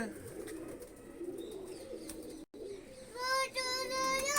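Pigeons in new coops give soft repeated cooing over a low, steady murmur, joined near the end by brighter chirping calls.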